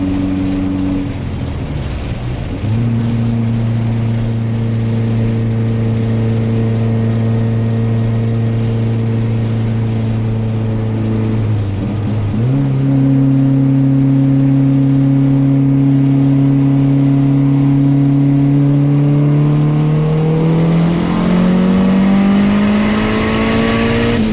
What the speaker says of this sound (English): take it for a ride, engage our meth injection, and spray this thing